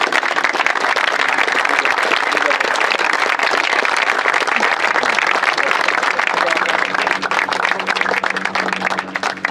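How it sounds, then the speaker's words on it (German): A crowd at a DJK Würzburg versus VfR Burggrumbach football gathering applauds loudly and steadily, a dense wash of clapping with voices murmuring underneath. "Großen Applaus bitte."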